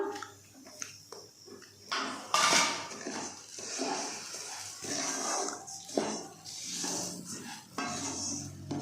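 Prawn pulao rice with cashews and raisins being stirred in a pan, with scraping and light clinking of a spoon against metal in irregular bursts, fairly close and moderately loud, with no talking.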